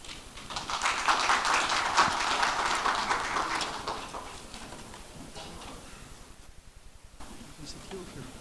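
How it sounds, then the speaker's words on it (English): Broadband applause from a forum audience in Istanbul greets a professor before an open debate and Q&A. It is loud and dense for about four seconds, then thins and fades to quiet. "Please a round of applause for Professor Yılmaz."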